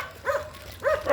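A dog gives two sharp barks, spaced about half a second apart, close by and loud over a quiet background.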